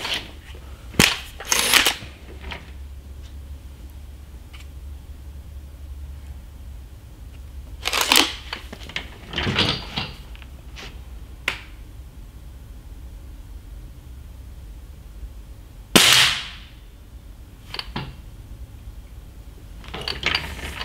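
A Snowpeak SR1200S air rifle fires JSB pellets, producing several sharp, brief cracks spread irregularly through an otherwise quiet stretch, with faint handling clicks between shots.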